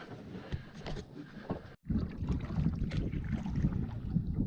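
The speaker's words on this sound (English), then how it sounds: "Just paddling across to our campsite, Camp 5." A canoe is paddled across a lake in Algonquin Park, with soft water swishes and gurgles from the strokes under light wind buffeting the microphone.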